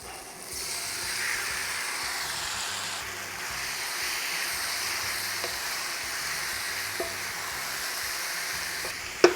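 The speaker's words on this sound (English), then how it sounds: "And then we're going to add our shrimp." Shrimp hit a hot pan already holding ginger and oil, and a steady loud sizzle sets in and holds throughout, with a few faint clicks and a sharp knock at the end.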